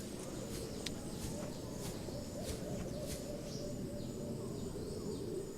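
Insects chirp on an island in the Subnautica video game, a faint steady run of high, repeated chirps over a constant low ambient rumble.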